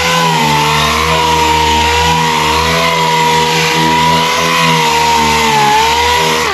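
A disc sander works over boat gelcoat in a steady, loud, close motor whine with a constant pitch and slight load changes as the disc moves back and forth.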